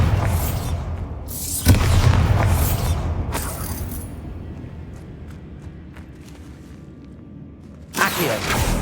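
A Bombarda spell goes off in Hogwarts Legacy inside a tomb as two broad, booming blasts several seconds apart, with creaky, mechanical rumbling between them.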